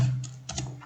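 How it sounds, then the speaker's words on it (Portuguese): A few quick keystrokes on a computer keyboard while typing a MySQL query, faint and close, three or four soft clicks over a low hum with no talk. "Opa, digitei alguma coisa errada"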